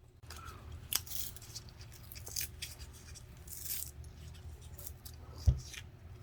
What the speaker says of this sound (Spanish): vamos a abrir el cartucho que nos ha venido ciego